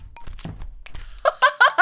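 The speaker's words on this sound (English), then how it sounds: "You see Abby absolutely thrashing one of the bags of almond with a rolling pin." Rolling pin thrashing a bag of almonds in a bakery video game: a few soft thuds and clicks early, then a rapid run of four loud, close, hard bangs in an even rhythm.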